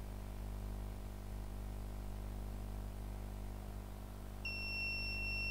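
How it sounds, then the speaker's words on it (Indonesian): Two steady high-pitched electronic tones of a laptop-use security system buzzer switch on near the end as time runs out, over a constant low hum, like a buzzer alarm starting to sound. "akan ada bunyi times up dan buzzer dan lightnya pun berbunyi"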